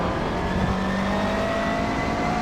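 A McLaren MP4-12C GT3 race car at Circuit de Spa under steady throttle: a loud, continuous engine drone with a sustained pitch held close and alone, without any speech.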